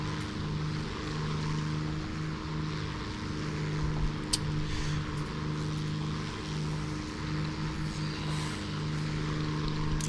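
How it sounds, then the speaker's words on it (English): A propeller airplane's engine in War Thunder drones steadily and loud, a constant low buzzing hum with no breaks throughout. "I am trying to fly as fast as I can, guys. Sorry, this is a stupid slow airplane."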